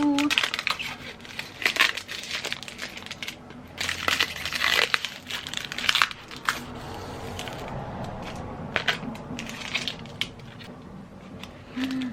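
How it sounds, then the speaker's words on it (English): A sticky film or label being peeled off a shelf or book, giving close crinkling, crackling and tearing sounds in irregular bursts over a dozen seconds, with faint background noise. "Satisfying peely peel."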